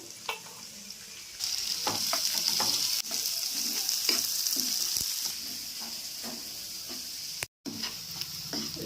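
Onions frying until golden in hot oil for a small fish curry, giving a steady close sizzle with occasional stirring clicks and scrapes, one brief dropout near the end.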